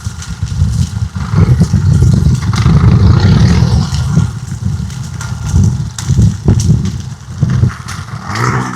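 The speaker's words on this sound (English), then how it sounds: "And then they're coming behind the fire with a blower." A blower engine runs behind a controlled spring grass fire in Missouri, a loud, close, rumbling motor drone that surges and sags unevenly with faint clattering, heard alone without talk.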